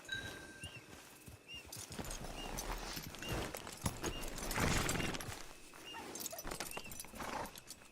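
Horse hooves clip-clopping in the video game Red Dead Online, a steady rhythmic trot close by with a brief whinny, over faint game ambience and no talk.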